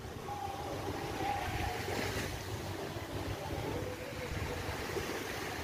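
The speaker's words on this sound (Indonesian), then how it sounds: "beginilah suasana pantainya pada tengah hari" Beach at midday on Pulau Panjang, with a steady wash of wind and surf at low tide and faint, indistinct background activity, a low, even ambience.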